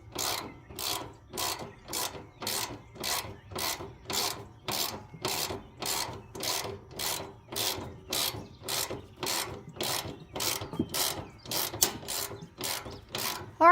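A ratchet turns bolts on a homemade exhaust elbow, making a steady run of about twenty evenly spaced rasping clicks, close and clear, with no talk over it.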